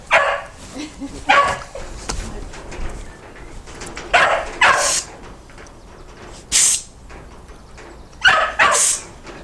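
A cockapoo barks in sharp, repeated bursts of one or two barks at a time, close and loud, with some hiss and whimpering between them and people talking in the background.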